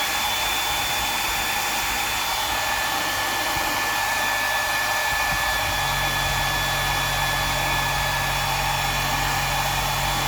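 A hair dryer blows steadily on the freshly painted silver coat of a deep-diving minnow fishing lure, a loud continuous whirring roar that shifts pitch slightly around the midpoint, with no talking.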